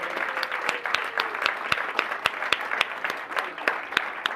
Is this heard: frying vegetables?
no